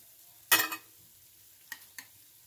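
A spoon scoops steamable frozen broccoli florets: one loud crunchy scrape, followed a moment later by two small separate clinks, close up and without talk.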